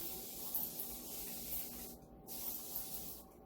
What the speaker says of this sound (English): I'm going to spray the whole piece.